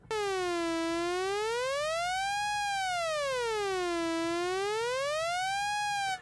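A dub siren effect synthesized on a Roland MC-101 sweeps smoothly up and down in a slow, steady wail, about two full cycles, loud and continuous with no voices.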